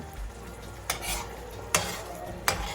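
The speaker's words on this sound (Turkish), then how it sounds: "Ben şu an yumurtalarımı çırptım. Şunu şöyle boşaltıyorum." Whisked eggs hit a pan of crumbly çökelek cheese with a steady low sizzle, broken by three sharp scraping bursts from stirring, close and fairly loud.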